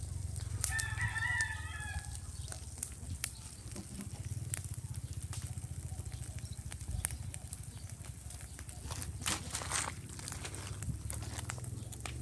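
A rooster crows once near the start over a steady low hum, followed by scattered clucks and soft tapping knocks, near a chicken coop with a fire producing smoke.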